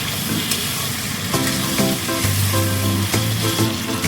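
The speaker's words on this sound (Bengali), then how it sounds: "খুবই আস্তে আস্তে আমরা মটনটা এক পিস করে দেবো" Mutton pieces go one by one into hot oil inside a truck cabin, setting off a loud, continuous sizzle with a few brief clinks and sputters, close and alone without voices.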